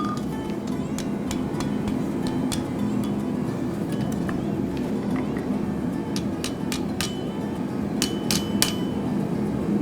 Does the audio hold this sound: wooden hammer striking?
yes